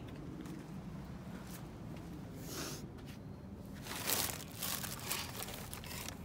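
Plastic IKEA bag crinkling and rustling as it is handled while digging through a dumpster, steady close handling noise with a louder burst of crumpling near the end, no talk.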